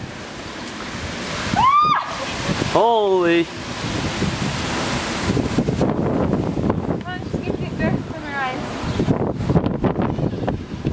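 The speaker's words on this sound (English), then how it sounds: "It's kind of windy" Strong wind buffets the microphone in a steady roar, with a few short exclamations and voices breaking through near the start and later on.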